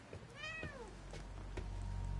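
A cat in the horror video game The Medium gives one clear rising-and-falling meow near the start, alone over a quiet ambient hum that swells slightly afterward.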